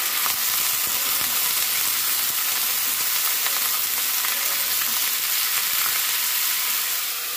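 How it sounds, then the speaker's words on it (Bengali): Cauliflower pieces hiss in hot oil with a dense, even sizzle that stays loud and steady throughout, close by and with no voices. "তেল গরম হয়েছে, আমি দিয়ে দিচ্ছি কপিগুলো দিয়ে দিয়েছি।"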